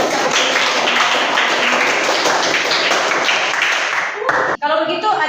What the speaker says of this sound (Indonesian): Tepuk tangan dong untuk Ruth dulu